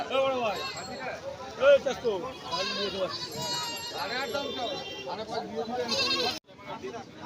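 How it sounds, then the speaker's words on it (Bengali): Barbari billy goats at the Uluberia goat market bleat loudly and repeatedly, with overlapping wavering calls from several animals close by, mixed with background voices. "বারবারি ছাগলের পাঁঠা"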